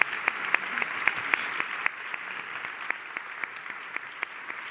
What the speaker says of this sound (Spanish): para la que pido un aplauso especial